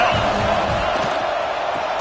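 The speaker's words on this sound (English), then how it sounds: "This crowd rising up, sensing that its defense needs some help." A college football stadium crowd at Clemson versus FSU roars steadily and loudly, a dense wall of cheering and shouting that holds without pause under a commentator's voice.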